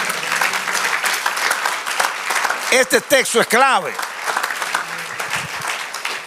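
A church congregation claps in steady, dense applause throughout, with a voice speaking briefly over it midway.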